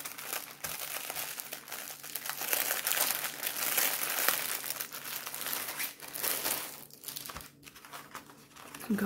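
Packaging of a Shein cross-stitch kit crinkles and tears as it is opened, a steady run of close plastic rustling and crunching with brief pauses and no talk.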